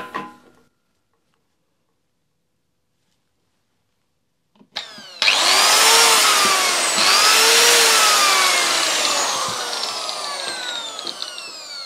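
A DCA ASM04-150 angle grinder, switched on with its lock engaged, spins up after a short silence with a sharp startup whine that rises into a loud, steady high-pitched howl, wavering slightly in pitch as it runs close by.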